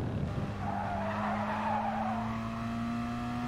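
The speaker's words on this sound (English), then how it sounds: "I slid the car into the corner, but didn't wind up getting a penalty" In a racing video game, a car slides into a corner with a sustained tire squeal and skid over a steady engine drone, loud and close throughout.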